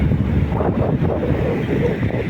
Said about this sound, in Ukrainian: який тут вітер